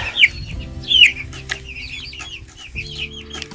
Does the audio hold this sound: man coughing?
no